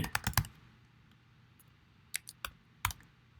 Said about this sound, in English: You can type whatever you want over here, right?